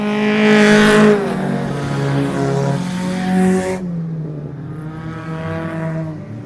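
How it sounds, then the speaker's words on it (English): Race cars battling side by side on a racetrack after a green flag restart, engines roaring loudly as they pass close by, a strong revving whine that sweeps down in pitch and then fades into the distance. "And we are back green flag racing. Jeremy Young and Derek Campbell get a good battle."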